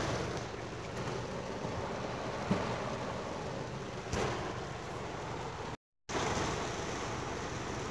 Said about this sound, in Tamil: செம்ம மழை வெளியே.